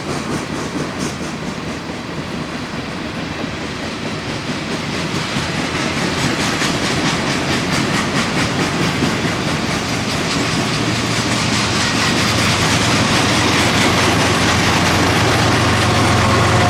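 Loud, continuous rumble and clickety-clack of a 15,000-ton freight train loaded with New York City trash rolling past at close range, its heavy cars grinding steadily and swelling slightly louder toward the end, with no talking.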